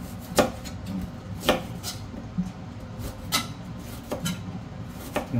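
Ginger is pounded for chicken tinola, several sharp close thuds with irregular spacing, moderately loud over low background noise and without talk.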